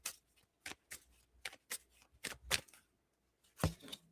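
A deck of fortune cookie cards being shuffled by hand, a series of crisp riffling bursts with brief gaps, close and fairly quiet with no talking.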